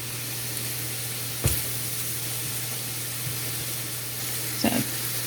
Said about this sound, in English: So simmer on medium heat until things look partially cooked.